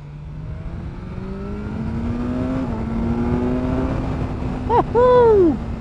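A BMW S 1000 R naked motorcycle engine drones steadily, its pitch rising through the gears, then revs up hard with a sharp upward sweep near the end, loud and close.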